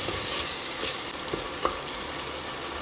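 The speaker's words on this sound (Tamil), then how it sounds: "தக்காளி நல்லா வதங்குறதுக்காக கொஞ்சமாக தண்ணி சேர்த்து வேக விட்டுறலாம்" Tomatoes cooking in a pan with salt and a little water give a steady, close sizzle with soft stirring scrapes, continuous and without talk.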